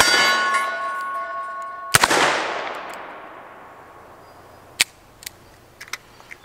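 Ruger Security Six revolver fired double action at steel targets: a loud close shot ringing with a long metallic clang, then a few sharper distant pings and clanks of bullets striking steel plates.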